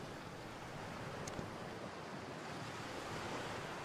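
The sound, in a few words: sea waves on the beach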